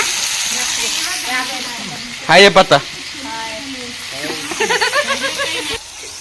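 Green chillies and tomatoes sizzle and fry in a pan with a soft, steady hiss, punctuated by a few sharp stirring clatters, while someone talks over the cooking.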